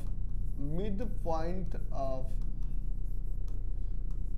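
Pen writing on paper during a Class 10 maths lesson on triangles, a steady faint scratchy rasp running throughout while a teacher talks over the first half.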